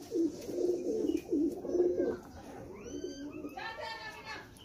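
A pigeon at a pigeon club coos in low, repeated throaty phrases close by, with a few higher bird calls following, while someone talks quietly.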